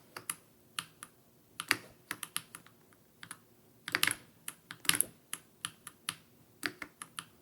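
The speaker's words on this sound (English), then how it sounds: "you can absolutely hear the keys" A computer keyboard sits close to the microphone, its keys clacking in irregular bursts of quick taps with short pauses between runs.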